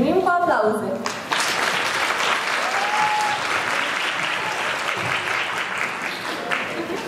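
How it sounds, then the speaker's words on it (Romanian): A crowd at a 2018 Women's Day school celebration in Pildești breaks into sustained, loud applause that fills the whole stretch, with a brief voice at the start. "Să le primim cu aplauze!"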